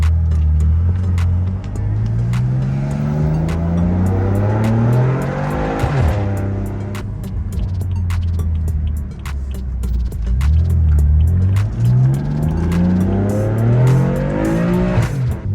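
A BMW M4 accelerates hard through repeated gear changes, its engine note rising in steady upward sweeps, dropping at each shift and climbing again, loud and close for the whole stretch with no talking.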